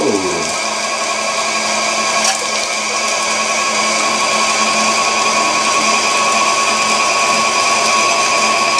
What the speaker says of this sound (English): And you can grind your own ground meat with just pure beef if you have a grinder.